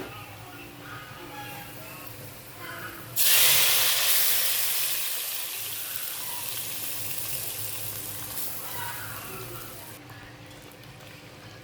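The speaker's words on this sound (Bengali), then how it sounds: "এখন বাগারটা ঢেলে দিব।" Hot tempering poured into a bottle gourd curry gives a sudden loud sizzling hiss that swells at once and then settles into a steady, gradually fading crackle of frying.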